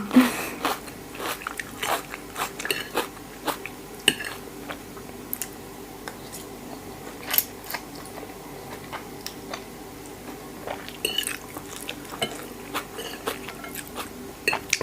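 Close, quiet bites and crunches during a mukbang of Thai fermented rice noodles and fresh Brussels sprouts, with irregular sharp clicks and chewing sounds and occasional utensil taps, with no talking.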